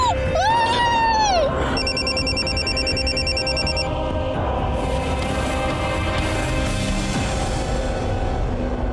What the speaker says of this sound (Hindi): ये रोहन का फोन आ रहा है।